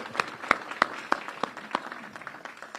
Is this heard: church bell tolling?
no